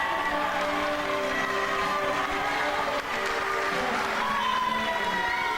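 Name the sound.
wrestling crowd cheering and applauding for Jake Roberts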